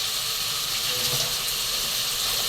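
Water pours steadily into a cooking pot of rice with a continuous splashing hiss, unbroken for a few seconds.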